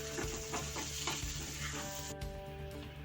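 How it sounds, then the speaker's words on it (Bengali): Pumpkin and fish frying lightly in oil in a pan for a Bengali fish dish, a dense close sizzle with crackling bursts and a few stirring scrapes over a short stretch. "দিয়ে আমি সবগুলো একটু ভেজে নেব হালকা হালকা করে"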